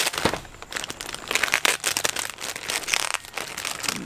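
A large taped-together package of Jeep Grand Cherokee grille inserts is opened close up, with steady crinkling, crumpling and tearing of packaging over a few seconds, no talking.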